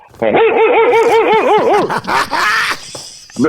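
A man imitates a barking dog with a run of rhythmic, wavering yelps and howls, loud and close, followed by a few rougher bark-like sounds.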